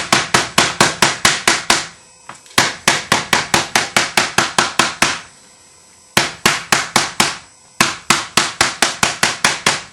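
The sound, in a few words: small wooden mallet pounding leather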